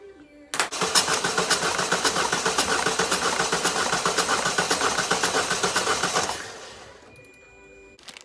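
A 1.6 HDI diesel car engine cranks and runs with a rapid, rhythmic chugging for several seconds before cutting out into near quiet, heard close and loud.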